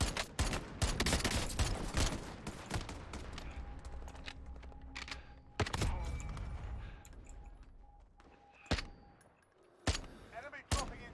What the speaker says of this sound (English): Let's see what I can shoot from over here.